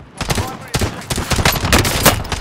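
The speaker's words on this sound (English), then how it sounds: "I can hear, I see gunfire down there or smoke" Gunfire in the video game Warzone, a rapid cluster of loud, close shots in bursts, with automatic fire rattling across the whole stretch and no talking.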